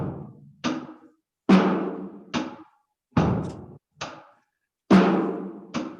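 Drum kit playing an 8-beat pattern: close, dry hits alternate between heavier low thumps and lighter knocks in a steady groove, with short gaps between strokes.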